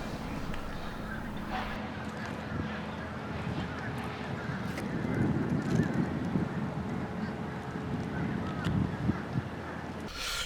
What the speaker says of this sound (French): les oiseaux ont l'air à bien apprécier eux autres aussi